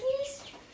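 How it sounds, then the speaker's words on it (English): Turkeys kept on a small farm give a short, close, high-pitched call, a brief bird vocalisation that fades quickly, with a voice nearby. "Yeah, they're turkeys."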